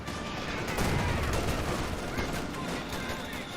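Continuous rattling MG-42 machine gun fire in Company of Heroes 2, a dense, loud, sustained burst over battle noise without a break.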